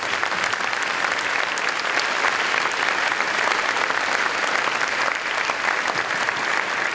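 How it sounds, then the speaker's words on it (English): A large audience at a high school graduation ceremony gives a loud, sustained round of applause, steady and dense for the whole stretch. "Please thank them with a round of applause."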